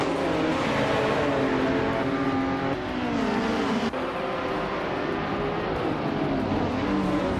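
Race cars starting a race at Hidden Valley Raceway in a racing video game, including a 2015 Porsche 718 Cayman GT4, a loud continuous roar of several engines revving and shifting up together, close and sustained.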